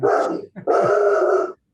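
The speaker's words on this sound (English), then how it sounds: "That's my dog." A pet dog barks and growls in two loud, close bursts separated by a short gap, with no talking over it.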